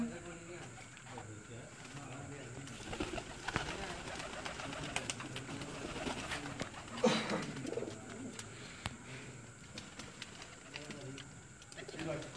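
Pigeons cooing at a loft, soft repeated coos mixed with other bird calls and rustling, moderately close, with faint voices in the background.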